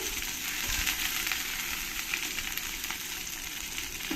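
Small puti fish frying in oil, a dense continuous crackling sizzle, steady and close throughout, with no voices.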